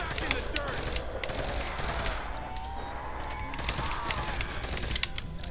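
Rapid automatic gunfire from a weapon in World at War custom zombies on the Hotel v2 map, sustained bursts of fast shots with clattering game sounds throughout.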